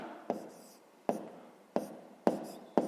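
Pen on paper during a fifth-grade math exercise, five quiet scratching strokes spaced roughly evenly, each a sharp tap fading into a short scribble, with no talk.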